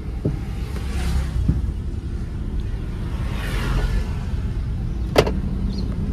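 A car driven slowly by a learner driver gives a steady low engine and road rumble from inside the cabin, with a few brief knocks and one sharp click near the end.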